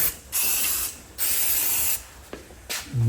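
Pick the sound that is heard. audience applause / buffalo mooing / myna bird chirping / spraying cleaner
spraying cleaner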